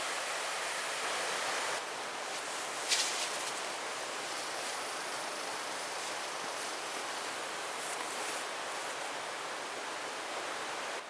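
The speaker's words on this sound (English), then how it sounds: "Enjoy the sounds of the Little Carp River." The Little Carp River in the Porcupine Mountains runs over rapids in a steady, broadband rush of water that stays even and unbroken throughout, heard from the bank with no voices.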